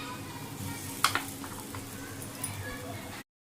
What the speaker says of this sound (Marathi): मी पलटी करते ते ॲप्पे.